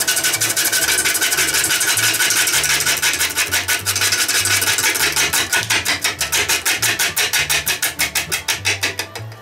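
A wood lathe turns a large beech salad bowl as the tool works around the corners, giving a loud, continuous rasping scrape with a rapid rhythmic pulse and an engine-like low hum underneath, and no voices.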